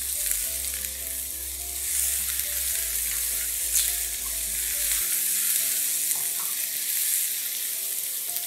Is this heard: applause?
no